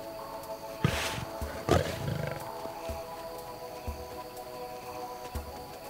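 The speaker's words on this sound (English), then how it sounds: "Slowly but surely, familiar faces appear. Led by the lioness, Notch's family returns." Lions of a wild pride roar twice in quick succession, close and strong, then fall back to quiet outdoor ambience.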